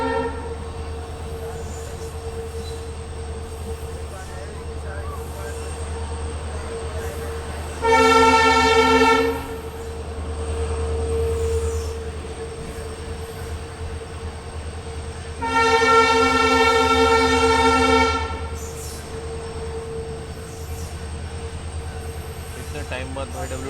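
A WDP-4D diesel locomotive hauling the Rajasthan Sampark Kranti Express between Delhi and Jodhpur drones steadily with a low engine rumble, broken by two long, loud horn blasts several seconds apart.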